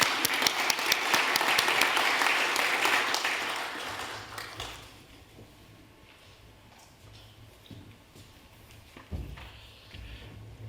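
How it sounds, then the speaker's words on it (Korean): A congregation in a Korean church hall applauds, the clapping loud for about four seconds before fading to quiet room noise with a few faint knocks. "박수로 영광을 드립니다."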